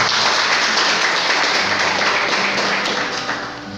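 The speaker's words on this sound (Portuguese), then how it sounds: "Agora sim vamos aplaudir a palavra do Senhor." A church congregation applauding, steady dense clapping that fills the space for several seconds and slowly fades toward the end, with no talking over it.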